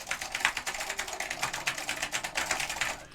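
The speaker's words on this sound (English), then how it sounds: "just think of like an old school vintage keyboard that's very loud and clacky" Rapid clacky typing on a vintage Northgate OmniKey 101 keyboard with Alps SKCM Orange switches, a close, dense, loud stream of sharp keystrokes in an irregular rhythm.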